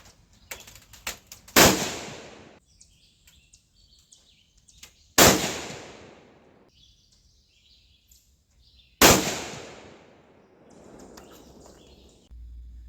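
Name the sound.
243 Winchester rifle shots fired offhand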